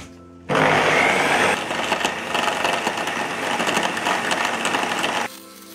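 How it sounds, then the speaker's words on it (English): A homemade lathe chuck spins freely with tailstock support, starting abruptly into a loud, steady whirring motor drone with a rattling edge that runs for about five seconds and then cuts off sharply. "Now I've also engaged the tailstock so that it spins freely like this and has tailstock support."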